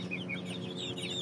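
A chicken clucking close by, a short run of soft, repeated calls over a steady background hum.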